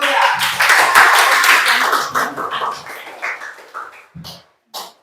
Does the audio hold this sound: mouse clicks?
no